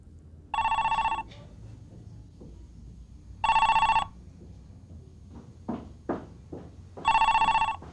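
A telephone bell rings in three loud bursts separated by pauses, with faint background noise and a few soft knocks between rings.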